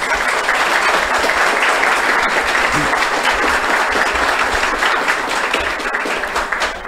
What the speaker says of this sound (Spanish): para quienes les pido un gran aplauso